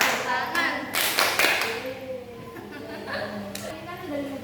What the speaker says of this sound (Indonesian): Tepuk siku, tepuk pundak, tepuk tangan.